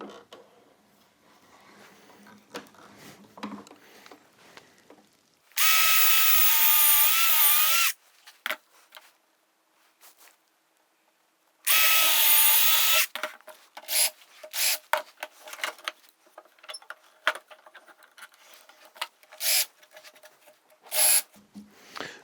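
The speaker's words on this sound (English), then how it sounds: "So we have drilled and countersunk all of our little sticks." A power drill with a snail countersink bit bores into small wooden sticks in two loud, close bursts of whirring a few seconds long, with quieter knocks, rubs and handling clatter around and between them.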